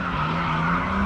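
A turbocharged Chevette drifting on track, a loud sustained tire squeal over a steady engine drone, close and unbroken for the whole moment.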